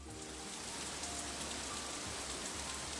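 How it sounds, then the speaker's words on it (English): Heavy rain pours during a sudden cloudburst in the video game Shining Resonance Refrain, a dense, steady hiss of falling water with no break, fairly soft and continuous throughout. "That was an intense cloud burst."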